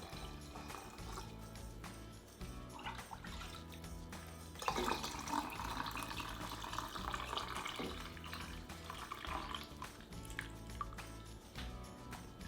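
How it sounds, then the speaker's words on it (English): Warm broth pours into canning jars of keto taco soup, a steady liquid splashing stream that swells midway and then continues under a faint background rumble, with no speech. "we're ready to pour it into our soup here"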